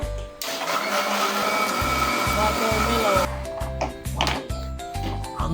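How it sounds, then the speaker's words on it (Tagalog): A kitchen blender whirs loudly, blending watermelon into a shake, starting abruptly, running steadily, then switching to a rhythmic pulsing pattern of short bursts; voices talk faintly in the background. "iuna natin ang ating blender"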